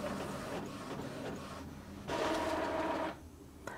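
An Epson XP 3200 wireless multifunction inkjet printer runs a print job and feeds paper out, giving a close mechanical whir that swells into a louder, rougher feed noise for about a second before dropping back, with no voices.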